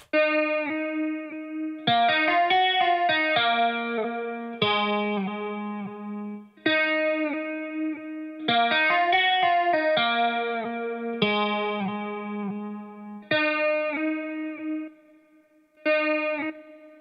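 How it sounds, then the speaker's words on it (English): Bright synth or keyboard chords play in choppy phrases, each note trailing off with a reverberant wash and echoing tail from mixer reverb in MixBus 10. "Let's just add like a little bit of reverb from the mixer"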